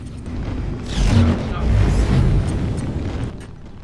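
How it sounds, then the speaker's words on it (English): A deep booming explosion in the space game Star Citizen, a loud swelling low rumble that builds, holds for a couple of seconds and slowly fades. "Boom, when explosions happen."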